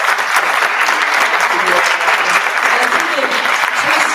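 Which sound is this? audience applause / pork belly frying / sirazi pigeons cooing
audience applause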